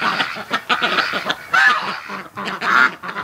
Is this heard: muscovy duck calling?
yes